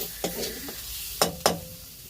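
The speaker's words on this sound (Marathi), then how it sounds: "आणि मिक्स करून घ्यावे मस्तपैकी असा मसाला भाजून घेतला" Masala stirred and roasted in a pan over a village wood-fired chulha for a crab curry, a few scraping stir strokes with sharp clinks against the pan over a soft steady background.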